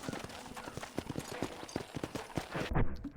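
Horse hooves clip-clop in steady rhythm within the Red Dead Redemption video game, close and fairly loud, ending in a heavier thud as the horse falls.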